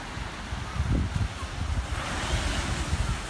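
Ocean waves wash steadily onto a beach with wind buffeting the microphone, a continuous broadband surf rush with a slightly louder swell near the middle and no talking.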